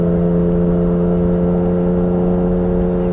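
A Yamaha XSR900 motorcycle engine idles with a deep, even hum and strong low harmonics, close and constant throughout with no clear revving.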